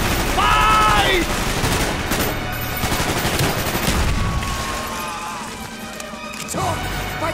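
Rapid gunfire and crashing impacts from the Call of Duty Black Ops war game, loud and continuous throughout, with shouted commands and battle chatter in the mix.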